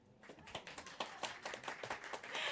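A small live-show audience claps in a loose, uneven patter of separate hand claps that builds toward a denser burst at the end, fairly near and without talk.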